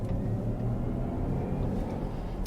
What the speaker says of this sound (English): there's an adjustable performance tone that's inside the cabin. I've got it set for its most dynamic sound